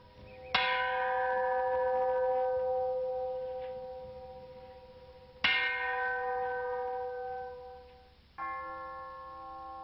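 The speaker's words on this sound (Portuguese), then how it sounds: "o sino de bronze ecoa forte e triste pelo ar" A large bronze bell at a peace memorial is struck three times at slow, even intervals, each stroke ringing out loud and resonant before slowly fading.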